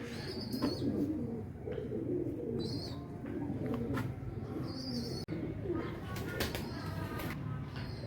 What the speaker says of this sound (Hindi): ऊपर माशाल्लाह कबूतर इस टाइम बाहर आए हुए होंगे